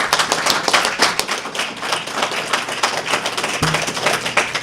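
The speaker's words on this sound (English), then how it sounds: "Please give them a round of applause" A town hall audience in Westchester County applauds the panel members, a close, lively clatter of individual hand claps from a modest crowd that stays fairly loud throughout.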